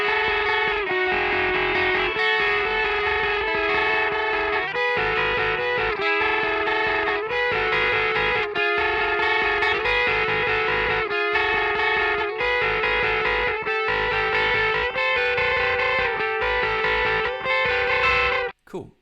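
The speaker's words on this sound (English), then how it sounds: "last part to learn is section 6, and sounds like this" Two distorted electric guitars play section 6 of a song, a steady, dense, loud riff of repeated rhythmic chords that cuts off abruptly at the end.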